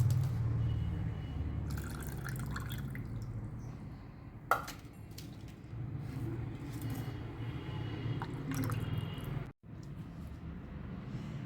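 Water drips and trickles steadily and quietly from freshly made paneer pressed under a weight, with one sharp knock partway through and a brief dropout near the end.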